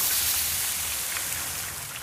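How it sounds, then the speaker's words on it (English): Jets of acid spitting in a fantasy game battle, a continuous harsh hissing spray like heavy rain, loud and steady for about two seconds before easing slightly, with no talk. "jets of acid,"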